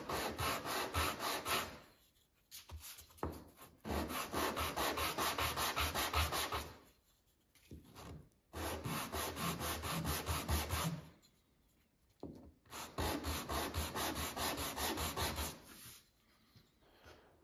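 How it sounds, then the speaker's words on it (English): Light hand sanding of a wood inlay, steady back-and-forth rubbing strokes in three long close bursts separated by short pauses. "just a little bit of light sanding is all it needs"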